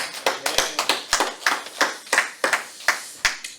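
Rhythmic clapping fills a Korean church's Friday prayer service, with the congregation's sharp hand claps landing in an even, regular beat, about three per second, crisp and moderately close with no voices.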